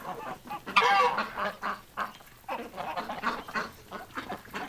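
Ducks and geese honking and quacking on a winter farm, an excited overlapping chorus of close, loud calls with a sharp honk early on, no talk.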